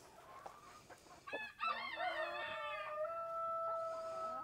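A rooster crows once, close and fairly quiet, with some faint clucking around it.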